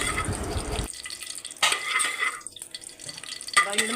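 Onion sautés in oil with cinnamon, cloves and cardamom in a pressure cooker for chicken biryani. A soft sizzle opens, then a spoon stirs and scrapes the pot in a few close, uneven strokes.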